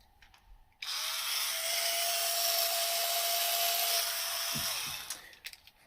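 A power drill whirs steadily for about four seconds, a loud close buzz that starts abruptly and winds down with a falling pitch at the end, with no talking.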